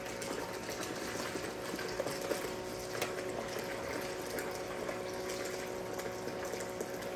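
A 12V bucket dredge running and pumping water, with a steady, continuous mechanical whir and watery churn throughout, close and unbroken.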